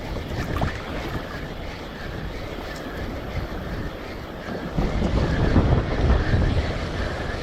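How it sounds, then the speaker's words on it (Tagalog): Strong wind roars across a seaside fishing spot, buffeting the microphone with a continuous heavy rush while waves wash in the background and grow louder near the end. "Talagang dito yung laging mahangin."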